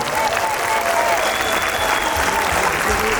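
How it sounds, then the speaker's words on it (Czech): Steady audience applause at the TGJ exhibition, dense even clapping from a crowd that holds at moderate loudness without pause. "Potlesk prosím."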